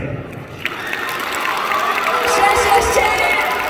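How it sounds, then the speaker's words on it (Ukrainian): Audience applause at an award ceremony for the second All-Ukrainian prize, a dense crowd clapping that swells gradually louder, with a few cheers rising out of the noise. "дайте максимальні оплески"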